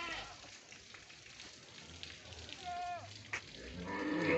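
A single faint moo rises from native dairy cows and calves at a cattle farm, heard at a distance over a low, steady background hum.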